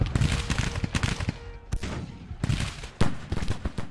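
Civil War artillery fires canister shot in the video game Grand Tactician: The Civil War, with a string of sharp, loud booms and cracks going off in irregular clusters, close and forceful.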